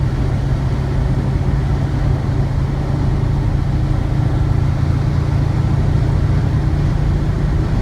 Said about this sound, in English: You can hear a little wind noise, but as you heard on the film earlier, it is windy outside.